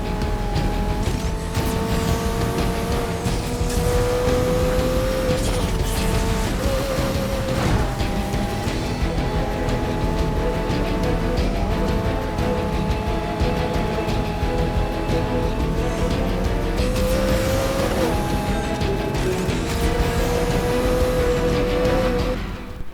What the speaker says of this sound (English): Listen to all those blow-off valve sounds.